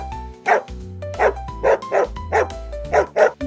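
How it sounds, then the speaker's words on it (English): A dog barks about seven times in a steady, evenly spaced rhythm, each bark loud and close, over a soft musical backing. "Dog."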